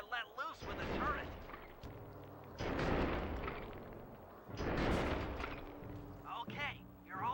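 Booming cannon blasts ring out from a tank turret in the Sly 2 video game, several heavy explosive bursts with rumbling tails that come in waves under game dialogue and voice chatter.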